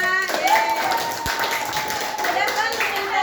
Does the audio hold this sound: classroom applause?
yes